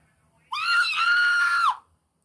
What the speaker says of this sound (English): can you stop screaming right now?